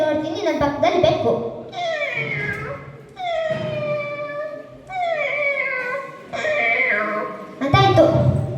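A human voice imitates a cat meowing, giving about five drawn-out, rising and falling meows in close succession, loud and near, with no other sound around them.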